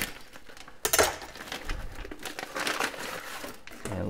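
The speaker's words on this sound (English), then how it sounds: "So I'm gonna just rip open the bag here." Plastic bag holding a partly frozen lake trout being ripped open, a close crinkling and tearing rustle with a sharp rip near the start, continuing as scattered crackles without talk.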